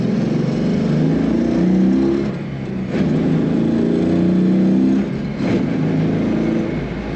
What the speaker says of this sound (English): I better shut up and shift because you want me to accelerate, right? This car can do it.